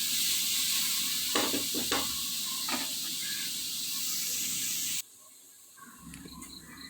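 Onions and tomato fry in a pan for a rajma and kabuli chana pulao, a loud continuous sizzle with a few sharp scraping stirs, then the hiss abruptly drops to a much fainter sizzle.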